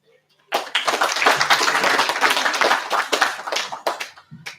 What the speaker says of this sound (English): Hustings, please give a big round of applause once more.